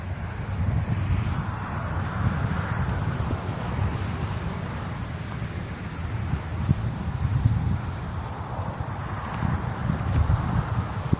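Steady, blustery wind roaring across the microphone with low rumbling gusts throughout, a constant broadband rush with no voices.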